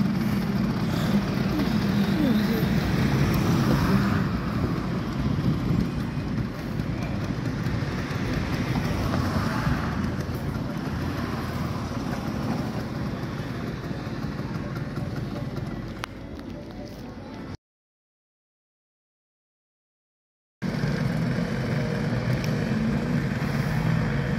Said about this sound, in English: motorbikes in Great Yarmouth. Wow. They do make a hell of a noise